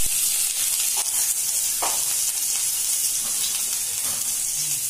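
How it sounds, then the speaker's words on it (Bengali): Garlic paste sizzling in hot oil in a wok, a loud continuous close hiss with a few faint clinks of a spatula, no voices. "আমার তেল গরম আছে কড়ায়, আমি তেলটা একটু কমিয়ে নিয়েছি, এর মধ্যে দেবো রসুন বাটা"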